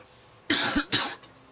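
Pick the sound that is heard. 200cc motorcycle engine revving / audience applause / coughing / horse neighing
coughing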